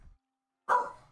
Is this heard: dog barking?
yes